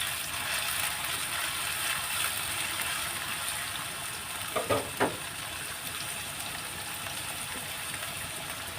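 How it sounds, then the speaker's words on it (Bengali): Chopped onions fry in a pan for lau diye mangsho, a soft steady sizzle with a couple of brief knocks of the spatula midway, fairly quiet and without speech. "দিয়ে দিয়েছি পেঁয়াজ কুচি, দিয়ে একটু নাড়াচাড়া করে নেব।"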